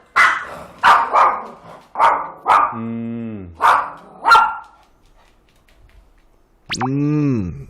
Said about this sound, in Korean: 많이 짖네요. 어우, 많이 짖어요.